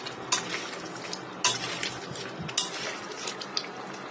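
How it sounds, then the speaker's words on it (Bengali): Meat curry spiced with ground nutmeg is stirred in a pot, a soft scraping and clinking of a utensil against metal with a few sharper taps over a low simmering hiss. "এটিকে নেড়ে চেড়ে আমি মিশিয়ে আবার ঢাকনা দিয়ে ঢেকে কিছু সময় রান্না করে নিব।"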